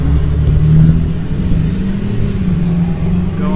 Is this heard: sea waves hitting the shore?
no